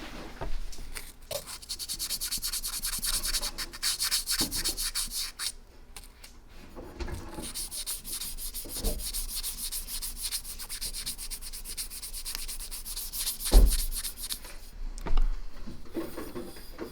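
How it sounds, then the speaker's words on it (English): 2000 grit sandpaper rubbed over a Winchester Model 70 rifle, steady close back-and-forth sanding strokes with brief pauses and a few light knocks. "Let's try some localized application of 2000 grit sandpaper."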